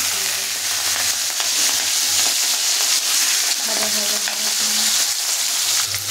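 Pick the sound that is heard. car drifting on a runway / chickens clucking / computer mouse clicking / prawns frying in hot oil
prawns frying in hot oil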